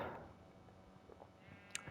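Sheep bleating inside a Minecraft-style blocky video game, a few short bleats heard faintly through game ambience, with a sharper burst of sound near the end.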